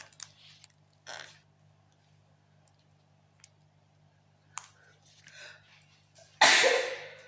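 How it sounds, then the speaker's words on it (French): A short burst of sneezing, with a few small sneezes and sniffs and then one loud sneeze close to the microphone near the end. "Crise d'éternuement en direct."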